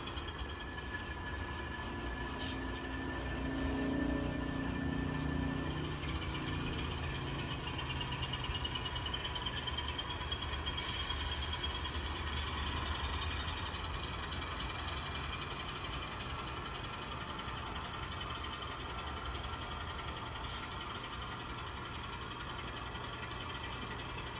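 An N scale model train hums and rattles steadily along its track, a continuous mechanical whir with faint clicks, running close by with no talking.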